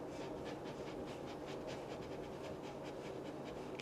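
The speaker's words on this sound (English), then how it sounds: "very rapid breath like panting of a dog. In and out through the nose" Rapid, steady panting breath drawn in and out through the nose, like a dog's pant, as part of a breathing exercise; close, continuous and even in rhythm throughout, with no talking.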